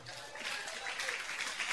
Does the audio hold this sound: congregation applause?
yes